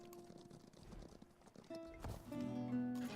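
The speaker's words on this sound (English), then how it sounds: "Are the horses literally hoofing themselves up?" Horse hooves clatter in a quick clip-clop as mounted units climb a cliff in Civilization VII, layered over game music and effects that swell toward the end.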